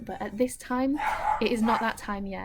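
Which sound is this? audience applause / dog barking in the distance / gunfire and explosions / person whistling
dog barking in the distance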